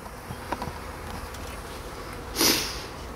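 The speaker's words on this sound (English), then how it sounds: "See how the bees are hanging out of the one we just done?" Honeybees buzz in a steady drone around an open National hive at an inspection, with a few light knocks and a brief louder rush of sound near the end.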